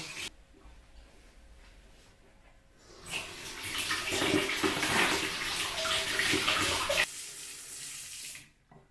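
Tap water runs steadily into a kitchen sink as juicer parts are rinsed clean, a loud splashing rush lasting several seconds before cutting off, with no talk.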